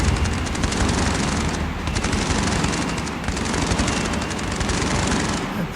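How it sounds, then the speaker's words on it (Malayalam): Rapid bursts of automatic gunfire fill a video game police mission, loud and continuous, with dense overlapping shots and booms and no pauses. "ഇവന്മാരൊക്കെ പോലീസിന് നേരെ ഫയർ"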